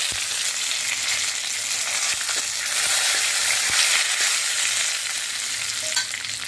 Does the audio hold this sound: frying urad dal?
yes